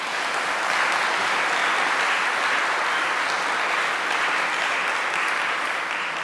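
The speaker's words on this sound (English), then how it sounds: "so let's give her a round of applause as well" Applause at an oration award ceremony: a large audience claps in a dense, continuous roar, steady and loud throughout with no talking.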